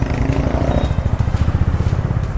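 A motorcycle engine runs steadily close by, a low, even rumble with a rapid putter and no voices.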